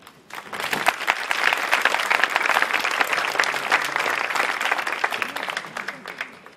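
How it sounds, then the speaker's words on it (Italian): An audience at an evening event of the Cervo Ti Strega 2018 festival claps in a crisp, lively burst that swells quickly, holds for several seconds and gradually dies down. "Quindi doppio applauso."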